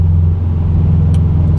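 Deep, steady engine rumble from a 2014 Subaru WRX, loud and close, holding an even low drone throughout with no talking.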